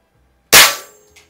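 A single sharp crack of an Anschutz 335 break-barrel air rifle's trigger releasing under a Lyman trigger gauge, loud and close, with a short decaying tail and a faint click after.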